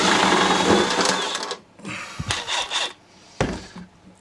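A 1/2 inch impact wrench removing bolts from a lawnmower, giving a few loud, rough bursts of rattling whir separated by short pauses, close up.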